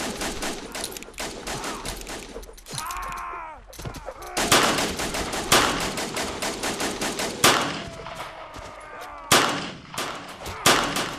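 Machine gun fire in the shooter game Iron Europe, loud rapid bursts of gunfire with short gaps and sharp single shots, close and dense throughout.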